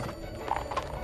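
Hooves of a horse pulling a cart clip-clop in a quick, light rhythm, fairly faint and close, with brief creaks between the steps and no talk.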